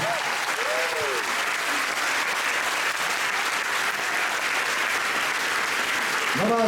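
Loud sustained applause from an audience greeting filmmakers on stage at a screening, a dense clapping wash throughout with brief voices and tonal sounds rising briefly at the start and end.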